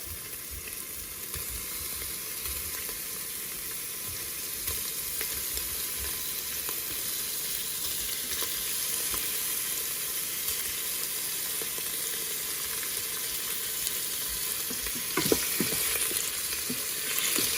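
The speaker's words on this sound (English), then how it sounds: "you can hear the sausage meat sizzling" Steady, close sizzling and crackling of sausage meat browning in an Instant Pot, continuous throughout with occasional faint clinks and stirring.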